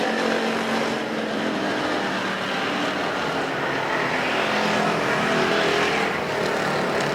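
Race cars in a factory stock main event roar continuously around a dirt speedway at Perris Auto Speedway, a steady loud engine drone with no pauses and no talk over it.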